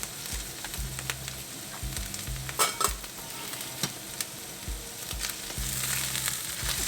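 A spoon stirs turmeric and cumin powder into hot oil in a pan for aloo masala. A steady sizzle runs underneath, with scraping strokes and soft knocks against the pan.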